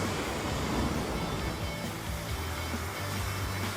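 Steady rushing water from a backyard waterfall spilling into a koi pond beside a pool and lava hot tub, a continuous broadband splash holding at an even level throughout.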